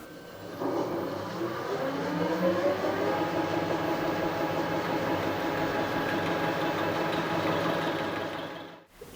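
An Elliott 10M shaper takes a fine cut off each face of a metal part, a steady mechanical drone with rhythmic working noise running evenly throughout before stopping abruptly at the end.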